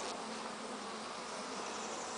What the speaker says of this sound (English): This is a drone bee.